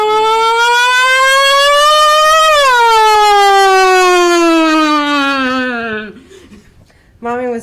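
A voice imitates a siren, a loud sustained wail that climbs in pitch, then slides down and fades out, followed by a brief burst of sound at the end.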